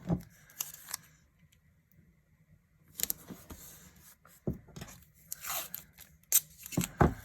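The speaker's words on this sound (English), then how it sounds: "So I'll tape off one more section for that." Painter's tape is pulled and torn off the roll, then pressed down onto a paper planner page: short ripping and crinkling bursts with quiet gaps between them, close up and with no talking.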